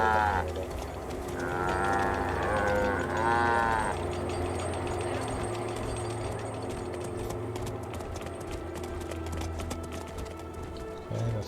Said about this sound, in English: Let's go ahead and herd these cows.